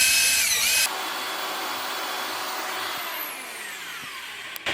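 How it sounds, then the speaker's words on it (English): A power drill whirs steadily at a high pitch, starting loud then dropping to a lower, sustained hum before a brief burst at the end. "This drill's got a lot of power."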